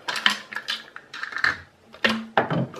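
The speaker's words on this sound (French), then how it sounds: "Alors je vais retirer le papier." Paper wrapper being peeled off a starter kit of a reusable cleaning-tablet bottle and refill, heard as a few close, crisp crinkles and tearing rustles in quick bursts.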